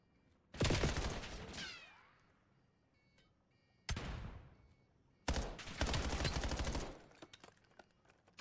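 Three loud bursts of rapid automatic gunfire in a Call of Duty match, the first trailing off with echoing decay, then a short burst and a longer sustained volley, separated by quiet gaps.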